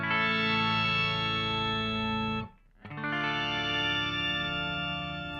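Electric guitar through an Electro Harmonix POG2 octave generator pedal with slowed attack, giving two sustained octave-stacked chords that swell in, separated by a brief near-silent gap, loud and alone.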